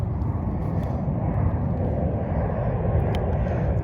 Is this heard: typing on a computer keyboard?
no